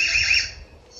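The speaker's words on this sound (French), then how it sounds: "Et maintenant on va regarder au niveau de l'alarme, je l'active." Alarm siren of an EZVIZ HB8 Pro security camera, a loud, shrill electronic tone that holds steadily, then drops away toward the end.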